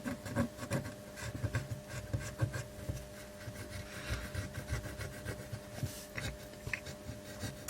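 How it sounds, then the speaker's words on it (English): A fiberglass pen scrubs corroded green legs of an IC on a Mac Classic logic board, giving close, dry scratchy rubbing in quick irregular strokes with brief pauses, quiet and alone. "get the old fiberglass pen in here as well and clean some of these IC legs up"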